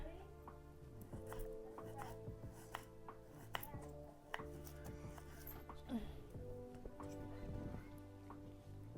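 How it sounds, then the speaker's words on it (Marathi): Garlic being finely chopped with a knife on a board, a steady run of quick, close taps repeated throughout while someone talks over the cutting. "तर लसूण पण कापून घेते बारीक बारीक"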